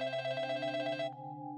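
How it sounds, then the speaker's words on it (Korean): A telephone rings with a bright, rapidly trilling bell tone, fairly faint, then cuts to a steady hum as the ring stops partway through. "다시 그 야마다에게서 전화가 왔다"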